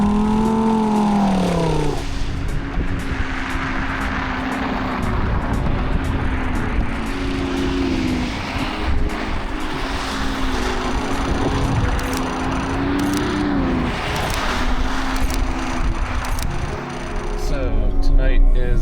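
A Lamborghini sports car sliding sideways around a course on a frozen lake at night, its engine droning and rising and falling in pitch as it revs, with people talking over the sound.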